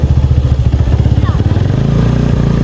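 A motorcycle engine runs close by while riding, with a loud, throbbing rhythmic pulse that steadies into an even drone.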